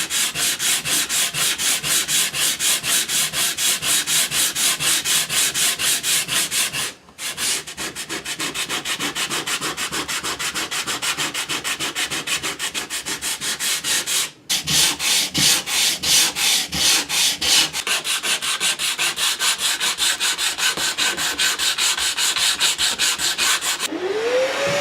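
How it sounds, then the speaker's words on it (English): Sandpaper rubs by hand over a wooden house number plaque in steady, fast back-and-forth strokes, loud and close, with two brief pauses across the long run. "to use some sandpaper and sand it down. I'm going to do this by hand"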